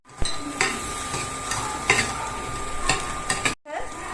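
Cut beans tipped onto potatoes in a pan and stirred, irregular scraping knocks and soft sizzling with a short silence near the end, no voices.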